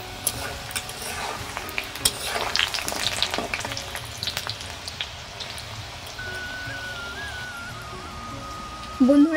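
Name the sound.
biscuits deep-frying in oil on low-medium flame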